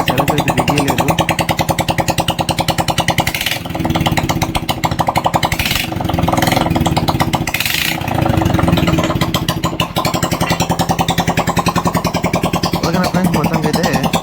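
A Hero Glamour motorcycle engine runs steadily right after a full engine fitting, a close, loud, even idle with a few brief revs rising and falling midway, no voices over it.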